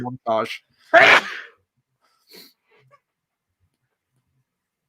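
A single sharp sneeze bursts out close by, one short loud blast surrounded by brief speech before and a quieter voice after, then near silence.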